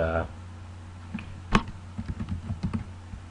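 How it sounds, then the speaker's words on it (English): Typing on a computer keyboard, a brief burst of close clicks after a loud tap, with a voice briefly at the start. "type in whatever you want"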